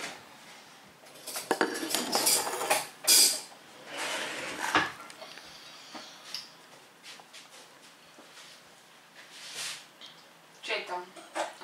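Metal spoons and forks clinking against dishes at a home fifth-birthday table, with several bright clatters and jingles spread across the stretch while people talk nearby.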